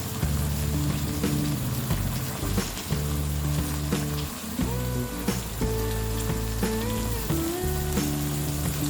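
Soya keema fries in a pan over a medium flame, a continuous loud crackling sizzle like rain on a surface, with occasional stirring bumps and a tonal background underneath.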